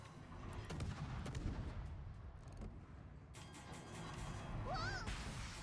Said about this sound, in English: We just need to blind shoot this man.